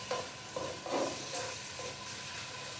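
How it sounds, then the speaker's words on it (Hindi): Crushed garlic frying in a pan, a soft steady sizzle with a few faint stirring scrapes, quiet and close. "और इसमें भी सबसे पहले क्रश लहसुन को भून लेंगे।"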